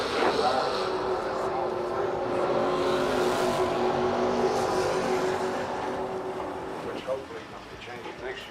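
Black Camaro drag racing cars at a dragway, a loud sustained engine roar with a steady droning pitch, near and continuous, easing slightly toward the end with a few sharper bursts.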